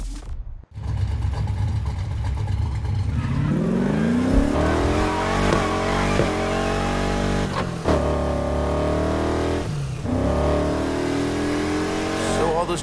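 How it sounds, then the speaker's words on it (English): A car engine in the video game Need for Speed: Heat revs up and accelerates, pitch climbing steadily, then holds a loud droning whine with brief gear-shift dips; voices speak over it. "Let's just get this car to the start line in one piece."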